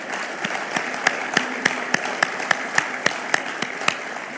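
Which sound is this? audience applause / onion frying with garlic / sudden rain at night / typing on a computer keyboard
audience applause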